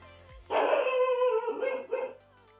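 A dog barks and whines at someone at the door, a sustained, fairly close run of barking that trails off into quieter yelps, with no talk over it.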